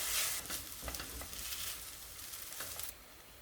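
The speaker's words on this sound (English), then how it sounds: "Put the rice and mix it together" Rice being stirred together with spam and kimchi in a hot pan, a steady close sizzle broken by repeated scraping stir strokes, moderately quiet, with no talking.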